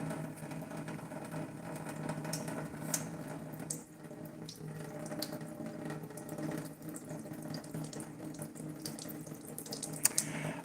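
Water runs steadily from a household tap into a sink, a continuous close hiss with faint clinks near the end.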